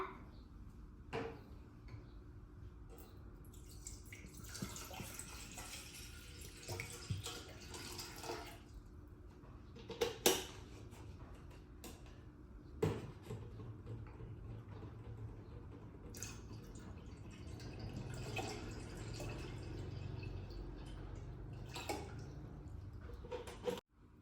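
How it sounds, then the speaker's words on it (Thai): Plain water poured into a container while making fresh fruit jelly, with soft intermittent splashes and drips, a few sharper clinks and a quiet background, and no speech. "เรามาเทน้ำเปล่ากันนะคะ"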